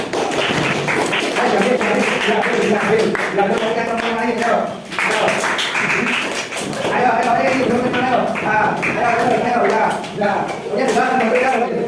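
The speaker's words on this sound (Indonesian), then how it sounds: "sekarang tadi bola kertasnya silakan dilempar sambil diiringi tepuk tangan" A school class claps together while tossing paper balls. The clapping is a loud, rapid, fairly rhythmic patter lasting the whole stretch, with brief dips, thumps and children's voices mixed in.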